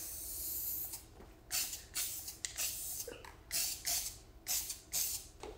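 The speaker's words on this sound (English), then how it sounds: "Just to spray another coat on here." Several short hissing bursts of spray paint onto a wood sign, each lasting about half a second, come in a steady rhythm with quiet pauses between them, close to the listener.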